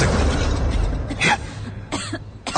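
A few rough coughs over a low rumbling background, with short bursts spaced apart rather than a continuous fit.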